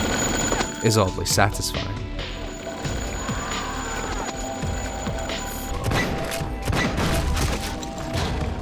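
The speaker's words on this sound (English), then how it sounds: "the constant tinkle of spent shell casings hitting the ground as you fire" A first-person-shooter video game gun fires rapidly while spent shell casings tinkle and clink on the ground, heard beneath a narrator's voice.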